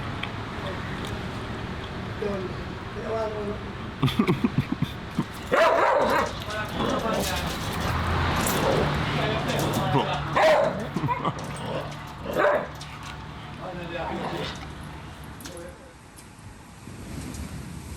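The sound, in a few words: dog barking and whimpering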